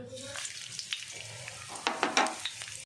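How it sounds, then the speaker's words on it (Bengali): Dried red chillies, whole cumin, bay leaf and whole garam masala hit hot oil, sending up a low steady sizzle that swells into several loud crackling bursts near the end, close and with no talking. "আমি ফোড়নের জন্য দিয়ে দেবো শুকনো লঙ্কা, গোটা জিরে, তেজপাতা আর দুটো আস্ত গরম মশলা"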